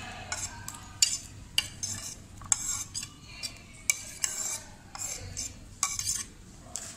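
Chopped tomato, cucumber and onion are tipped and stirred into raita, with repeated sharp clinks of a spoon against a bowl and soft wet scraping between them, close and otherwise quiet.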